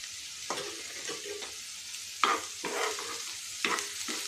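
Finely chopped curry leaves are stirred into a frying breakfast mixture of semolina, flattened rice and sago, giving a few close spatula scrapes over a soft, steady sizzle, with no one talking.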